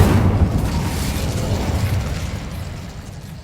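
A fiery Incendio spell blast in Hogwarts Legacy bursts with a loud, close boom and then rumbles away steadily over a few seconds, with no voice over it.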